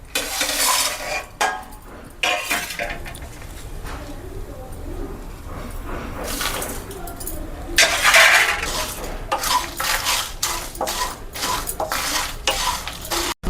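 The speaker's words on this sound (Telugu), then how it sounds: "ఇప్పుడు స్టవ్ వెలిగించుకొని కడాయి పెట్టుకొని ఇది వరకు తీసి పెట్టుకున్న ఇంగ్రీడియంట్స్ అన్నీ దోరగా వేయించుకుందామండి" Masala chicken ingredients dry-roasted in a kadai on a stove, with metal spoon scraping and clattering against the pan in repeated stirring strokes over a soft sizzle, close and fairly loud.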